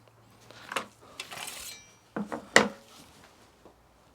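Knife cutting a chunk of pork into thick steaks on a board for smoking, with a few sharp knocks and scraping strokes, close and fairly quiet, no talk.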